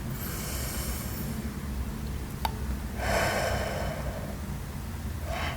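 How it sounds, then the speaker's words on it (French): Deep breaths for a stress-release breathing exercise. Slow, audible inhales and exhales stand out over a steady background hiss, with one strong breath near the middle and another starting at the end. "on va prendre un petit moment pour faire des respirations"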